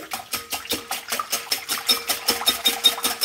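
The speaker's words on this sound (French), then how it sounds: "je vais mélanger tout ça, tous les ingrédients liquides. On va les fouetter." Liquid ingredients for gluten-free bread are whisked hard in a bowl, a quick, regular clatter of whisk strokes repeating several times a second, close and fairly quiet.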